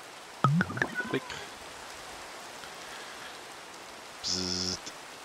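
Steady rain in Minecraft hisses as a constant background wash, with a few short electronic game beeps and tones popping up over it.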